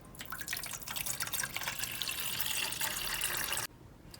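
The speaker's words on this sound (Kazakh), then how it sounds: "Алдымен кастрюльмізді плитаға қойып, үстіне суымызды құямыз." Water pours into a metal pot in a steady splashing stream for a few seconds, then cuts off abruptly.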